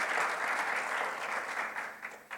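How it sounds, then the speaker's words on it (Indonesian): Applause from a congregation during a Sunday worship service at an Indonesian church, a soft, even wash of many hands clapping that stays fairly distant and tapers off slightly toward the end. "yang bangga boleh tepuk tangan sama Tuhan."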